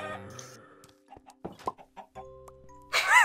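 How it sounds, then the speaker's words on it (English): Chickens in the Minecraft video game cluck in short, scattered bursts, close and fairly quiet, with a brief rising squawk at the end. "Why are there so many chickens in here?"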